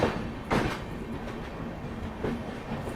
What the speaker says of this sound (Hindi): शंटिंग करता हुआ एल्को लोकोमोटिव।